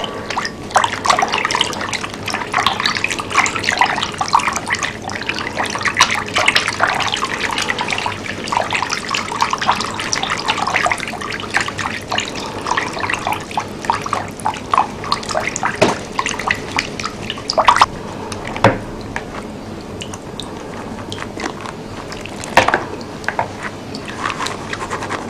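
Red mason bee cocoons are agitated in a container of water, giving a steady close sloshing and swishing with irregular splashes and drips.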